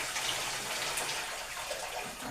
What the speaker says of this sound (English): I have some water and I'm going to put it in this basin here.